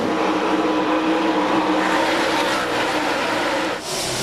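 NASCAR stock cars race at Bristol during the 2001 Sharpie 500, a dense, continuous engine roar with a shifting whine swelling and fading as the pack passes, loud and without voices.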